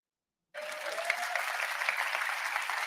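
An audience at a recorded talk breaks into applause after a moment of silence, and the clapping stays dense and steady to the end.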